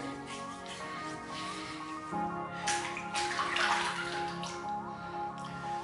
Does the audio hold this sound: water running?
yes